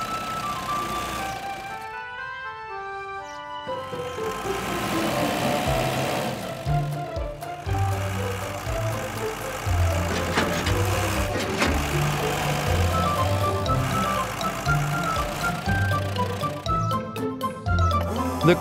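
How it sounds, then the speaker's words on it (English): A cartoon crane truck and tow truck roll out of a garage with engine hum and vehicle noises layered over a cheerful musical jingle that plays throughout. "The crane truck and tow truck are coming out of the garage."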